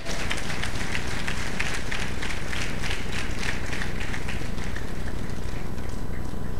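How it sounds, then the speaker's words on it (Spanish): A church congregation applauds the Lord during a Spanish-language sermon, steady dense clapping that holds loud and continuous throughout without a break. "Dale ese aplauso al Señor"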